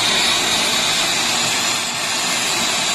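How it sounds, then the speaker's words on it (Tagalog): A Dyson vacuum cleaner runs close and loud indoors, giving a steady high-pitched whine and rushing airflow that holds without a break throughout, with no talking. "Let's clean the Dyson vacuum."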